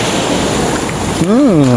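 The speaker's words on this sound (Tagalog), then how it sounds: "Sarap ng dagat." Sea waves wash along the shore near Maasin City as a loud, steady roar mixed with wind buffeting the microphone, and a voice speaks briefly near the end.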